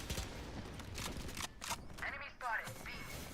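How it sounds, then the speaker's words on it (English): Faint bursts of gunfire from a Valorant esports match, heard as a few quick cracks and volleys mixed with voices. "They're shooting."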